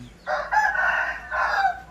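A Thai fighting-breed rooster crows close by, one loud drawn-out cock-a-doodle-doo with a brief pause partway through.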